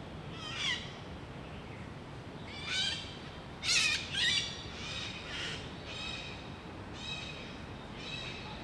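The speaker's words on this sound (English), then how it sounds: "a species of parrot with a jazzy yellow crest and an even more recognisable squawk" Yellow-crested parrots squawking at night: several harsh, scratchy calls come in separate bursts, some overlapping, at moderate distance over a steady outdoor hiss, with no voices.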